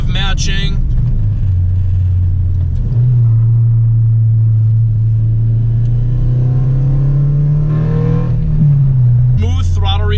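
Honda Civic Si engine revving under hard throttle, a loud steady drone that climbs gradually in pitch over several seconds, with brief talk at the start and end.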